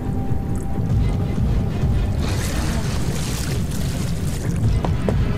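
Wading through water in Amnesia: The Dark Descent, a continuous loud sloshing and splashing with swells of rushing water, no talk.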